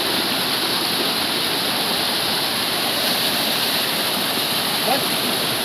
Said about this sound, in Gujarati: આવી છે નદી